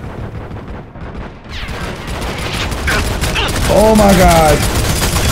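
Dense gunfire and explosions in the PS3 shooter Army of Two form a loud, continuous barrage, while a man exclaims over the top partway through.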